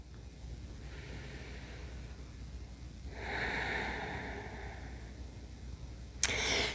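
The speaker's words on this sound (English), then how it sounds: "One more breath here." A slow, deep breath during yoga practice, drawn in audibly around the middle and ending with a sharp exhale, close and soft against a quiet room.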